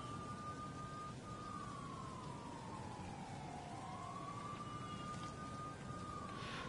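Steady rain falls across a city street in the Spider-Man PS4 game's New York, a dense constant hiss, while a distant police siren wails and sweeps up and down in pitch over it.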